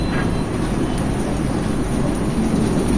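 Chopped onions fry in a pan for a beef curry made with ground spices, giving a loud, dense, continuous sizzle that stays close and steady, much like heavy rain.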